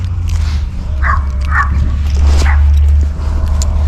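Small dogs yip and bark a few times at a distance over a low, constant garbage truck engine rumble.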